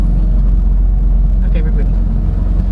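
Low, steady engine drone from a 2016 Porsche 911 GT3 RS (991.1) creeping slowly over an obstacle, heard from inside the car, with a brief soft mechanical sound midway.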